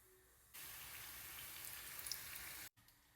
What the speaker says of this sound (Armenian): Տապակում ենք նախապես տաքացված ձեթի մեջ։